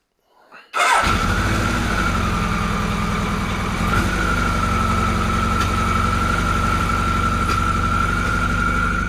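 A carburetted three-cylinder engine, choke on, cranks briefly and catches, then settles into a loud, steady idle close by with no talk.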